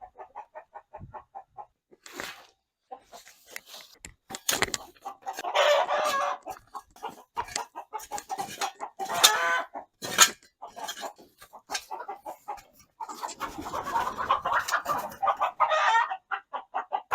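Chickens cluck and squawk in a lively, overlapping clamor while roosters crow loudly now and then. The bursts come close and uneven, with a few metallic clinks mixed in.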